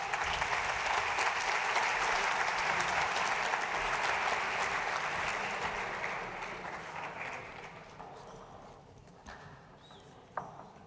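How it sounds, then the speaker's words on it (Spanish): Audience at a gastronomy forum in Girona applauds to welcome chef Borja García, a full, loud round of many hands that holds steady, then gradually fades out toward the end, leaving a few scattered claps and quiet room noise. "Adelante, Borja. Un aplauso, por favor."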